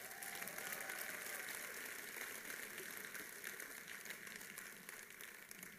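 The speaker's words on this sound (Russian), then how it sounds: "Давай дай себе аплодисменты." Steady applause from a large audience at an entrepreneurs' congress, a dense continuous clatter of many hands that stays fairly even and distant throughout.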